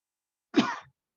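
A single sneeze bursts out close by, one short sharp blast that fades quickly, surrounded by silence.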